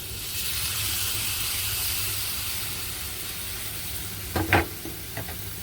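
Hog plum fries in a pan, and a paste of mustard and dried chilli is added. A soft, steady sizzle and hiss runs throughout, broken near the end by a couple of brief scraping stirs.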